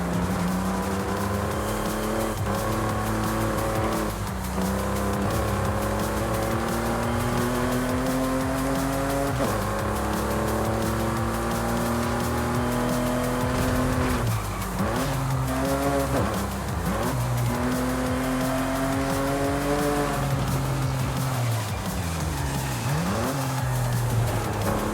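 A 2.8-litre V6 car engine in Forza Horizon 5 revs loudly and continuously, climbing and dropping through gear changes, with bursts of tire squeal and skidding throughout.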